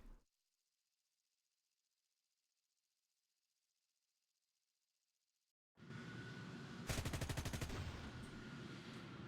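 FJ4B tank cannons fire in a vehicle combat video game after a few seconds of silence, loud booming shots followed by a rapid burst of rhythmic automatic fire over a roaring, noisy game background.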